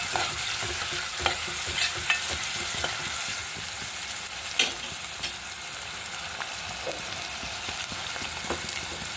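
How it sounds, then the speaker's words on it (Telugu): Onions and green chilies fry in a pan for an Andhra-style bottle gourd dal, a constant close sizzle broken by scattered scrapes and clicks of stirring. "ఆనియన్స్ 2 పచ్చిమిరపకాయలు వేసుకోవాలండి. ఫ్రై అయ్యే వరకు వేయించుకోవాలి."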